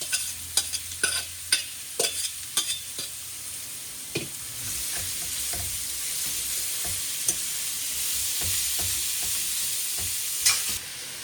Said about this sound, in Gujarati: હવે આપણે એના પછી કાંદા એડ કરશું. એડ કરી અને બરાબર એને મિક્સ કરી દઈએ.